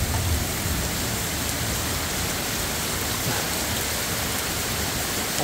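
Steady, dense hiss of heavy rain and hail pouring down during a thunderstorm in Van Nuys, California, a constant loud wash with no breaks and no voices.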